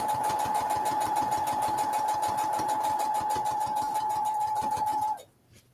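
A sewing machine stitches a fabric bag in a steady, fast, even whir with rapid needle pulses, loud and close, running continuously for about five seconds before stopping abruptly.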